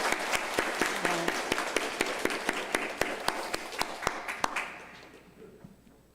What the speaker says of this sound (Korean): 우리도 하나님께 그리고 격려의 박수로 다시